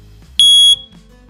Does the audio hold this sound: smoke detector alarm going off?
yes